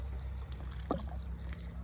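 Water trickles and pours steadily from a leaky household pipe while it drains, a continuous close wash of liquid with one brief gurgle in the middle.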